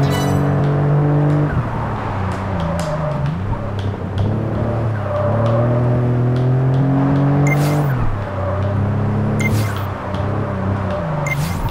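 A race car runs hard around a rain-soaked track, its engine climbing through rising rev sweeps with sharp gear changes. Loud and continuous throughout, with short hissing bursts of spray or wind breaking in several times.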